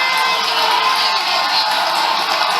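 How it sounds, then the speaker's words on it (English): High school football crowd at a 1999 playoff game between A L Brown and Concord, cheering and shouting in a loud, continuous roar that stays steady from start to finish. "Kannapolis crowd is into it. Concord fans up as well."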